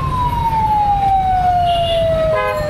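An ambulance siren in congested night traffic in Khulna city, heard from a cycle rickshaw as a single loud, sustained wail that slowly falls in pitch, over a steady rumble of road traffic.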